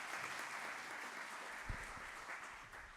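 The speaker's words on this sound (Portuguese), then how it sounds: "podemos dar mais uma salva de palmas aos nossos oradores" Conference audience clapping for the speakers after a Pecha Kucha session, a faint, steady wash of applause with a few thumps and shuffles near the end.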